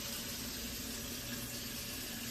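Water runs steadily from a kitchen sink faucet into the drain, a constant broadband hiss and splash with no pauses, close by and alone.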